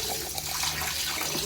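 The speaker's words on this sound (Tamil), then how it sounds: "இப்போ இது வாஷ் பண்ணி ஊற வச்சிடலாம்." Tap water runs steadily into a vessel as jeera samba rice is washed in a kitchen for mutton biryani, a constant close splashing rush with no talk over it.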